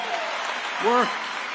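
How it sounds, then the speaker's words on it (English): Broad, steady applause from a crowd at a political rally, with a brief voice rising over the clapping near the end. "Doug and Gwen, I want to give them a big round of applause too."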